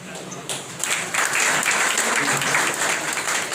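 An audience at a gathering of doctors in Gopalganj district, Bihar, applauds to welcome guests, with loud, steady, sustained clapping from many people throughout.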